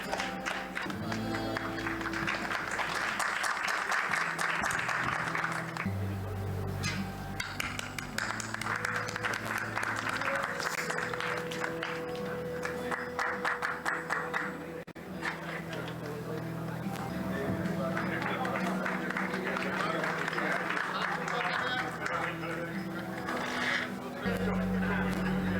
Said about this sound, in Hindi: अगर ताली गड़गड़ाहट अगर बजेगी तो बहुत अच्छा लगेगा